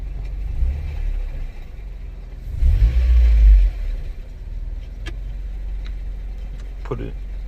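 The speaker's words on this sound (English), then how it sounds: "So you can hear it now, the clattering." A 2002 Honda Civic LX automatic transmission clatters while shifted into reverse, a steady low mechanical rumble with a louder surge partway through and faint ticks near the end, with no talking.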